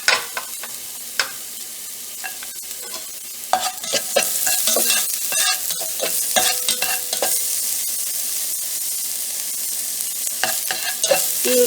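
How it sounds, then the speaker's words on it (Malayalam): Onions frying in oil in a pan for a Malabar kalathappam batter: a steady close sizzle with scraping stir strokes and clinks, sparse at first and then continuous, with no talking. "ഇതിൽ തന്നെ നമുക്ക് ഉള്ളി ഫ്രൈ ചെയ്തെടുക്കാം"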